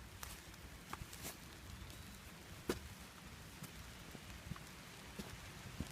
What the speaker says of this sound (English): The rain's coming down pretty good right now.